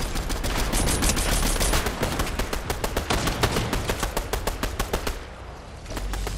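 Rapid automatic gunfire in a video game, sustained bursts of sharp evenly spaced shots rattling for several seconds, loud and close, then cutting off abruptly before a brief pause.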